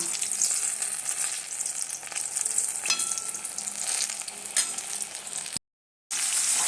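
Potatoes frying in a pan give a steady, close sizzle with occasional crackles and faint stirring, broken by a short silent gap near the end before the hiss resumes.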